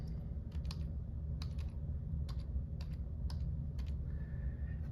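Computer keyboard being typed on in short bursts of crisp clicks, about a dozen keystrokes spread over a few seconds against a quiet room hum.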